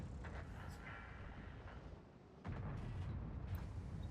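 A tank gun firing in a game, with a deep, rumbling boom that swells partway through over steady engine and battle noise, heavy and continuous rather than a crisp single crack.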